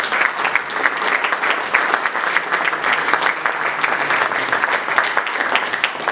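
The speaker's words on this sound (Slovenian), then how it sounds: "Pospremimo na oder z aplavzom" An audience at a regional business awards ceremony applauds a winner walking onto the stage, with steady, dense clapping from a large crowd throughout and no talk over it.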